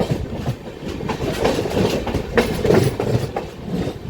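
Satavahana Super Fast Express running between Secunderabad and Vijayawada, a steady rumbling roar with rhythmic wheel clatter, heard from on board, close and loud throughout with no talking.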